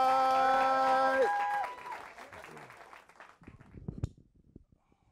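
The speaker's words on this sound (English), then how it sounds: "Start clapping right now. Give it up for Anthony Wright." A comedy-show audience applauds a comedian taking the stage. A brief sustained musical tone opens it, then scattered clapping from the crowd fades steadily toward silence.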